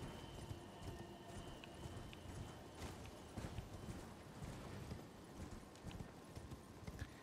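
Horse hooves clip-clopping in the Elden Ring video game, a steady galloping rhythm of close hoofbeats over a dense game soundscape.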